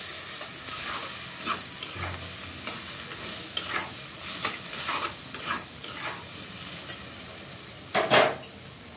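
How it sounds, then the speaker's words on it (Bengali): Onion and spices with turmeric sautéing alongside vegetables in a pan for a Bengali fish curry. A steady low sizzle runs throughout, broken by repeated scraping stirs from a spoon and a louder clatter near the end. "এখন কষাবো সবজির সাথে"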